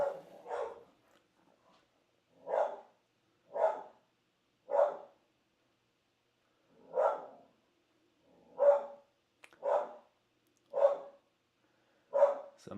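A household dog barks in repeated single woofs, about nine evenly spaced barks with pauses between, moderately loud indoors with no talk over them.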